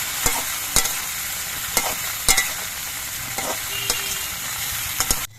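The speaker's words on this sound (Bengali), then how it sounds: "সজনের ডাটা দিয়ে একটু নাড়াচাড়া করে মিশিয়ে নিতে হবে" Moringa drumsticks fry in a pan with a constant close sizzle while a spatula stirs them, giving several sharp scraping clacks at irregular intervals. No one speaks.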